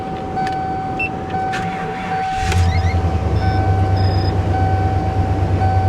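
A power window on a RAM 3500 Cummins truck runs as a steady electric motor whir, starting midway and continuing, with a high constant tone and faint clicks before it.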